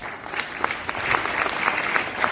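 A seminar audience claps at a motivational talk, a steady burst of applause with distinct individual claps standing out at a moderate distance, no voices.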